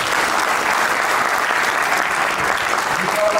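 Loud, dense audience applause fills a hall at a motivational money seminar, steady and sustained throughout with no gaps.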